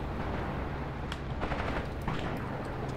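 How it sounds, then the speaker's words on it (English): Gunfire aimed at tanks in the Graviteam Tactics war game, a dense steady battle din with scattered sharp shot cracks standing out, continuous and fairly loud with no talking. "It is shooting towards my tanks."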